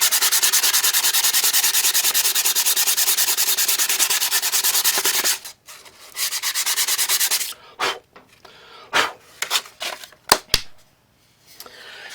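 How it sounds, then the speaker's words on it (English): Sandpaper rubs across stamped wood to remove excess stain: about five seconds of steady, close scraping, then a series of shorter, uneven strokes and pauses. "I'm just going to sand off the excess right here."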